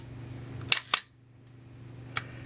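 Minolta SRT 200 35mm film camera shutter firing: two sharp mechanical clicks in quick succession, then a third lone click about a second later, close and crisp against a quiet, faintly humming room.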